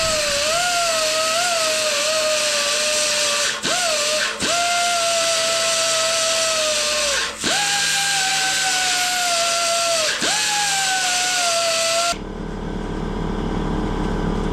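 Power tool grinding and smoothing the jagged welded edges of a fuel tank, a steady high whine broken by a few brief dips as the tool lifts off, close and loud, ending in a quieter rumble.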